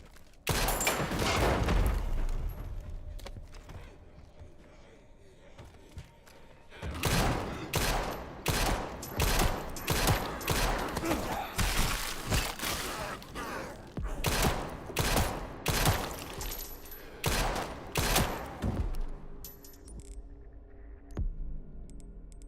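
Rapid gunfire from a rifle pistol in Resident Evil Requiem, a dense burst at the start, then after a short pause long runs of loud sharp repeated shots, close and without talk.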